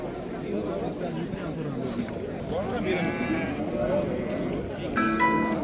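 Ewes and lambs bleating in a crowded livestock market in Ishtikhan, Samarkand, several animals calling nearby in short overlapping bleats, with people talking and chattering throughout.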